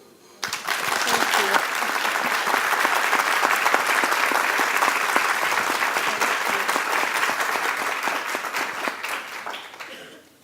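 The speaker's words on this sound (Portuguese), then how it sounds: "vamos receber a Kim Phuc com aquele caloroso aplauso brasileiro" Warm applause from a large Brazilian audience welcoming Kim Phuc: dense, loud clapping that swells in quickly, holds steady for about ten seconds, then fades out at the end.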